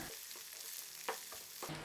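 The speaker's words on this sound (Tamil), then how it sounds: "நல்லா வதக்கி விட்டுட்டு" Quiet sizzling and frying of snake gourd in a pan with occasional soft scraping stirs, steady and close, with no voices.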